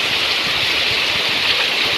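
Heavy monsoon rain pours down in Sindhudurg, Konkan, a loud dense continuous roar of falling water close by, with no pauses.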